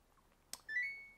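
A Samsung 16kg AI washing machine sounds its end-of-cycle alarm, a faint click followed by a single sustained electronic beep tone that fades slightly, heard alone in a quiet room.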